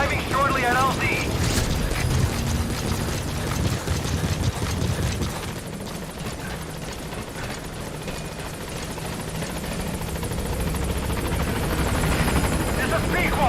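A helicopter in the Metal Gear Solid V: The Phantom Pain video game approaching a landing zone, a loud continuous rotor thump and mechanical whine filling the scene, with game voices and radio chatter over it.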